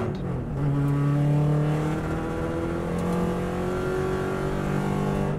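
Subaru WRX STI rally car driving on the Isle of Man course, its engine holding a steady, loud drone with rising pitch as it accelerates through a continuous run, heard from close up with no talk.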